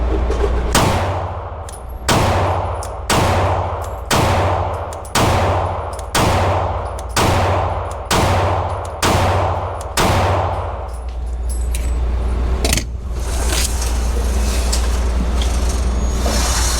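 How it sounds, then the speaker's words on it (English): A Glock 40 pistol fires a string of about ten loud, close gunshots at an even pace, each a sharp crack with a ringing tail, followed by a steady background hum once the shooting stops. "let's transition over to the Glock 40."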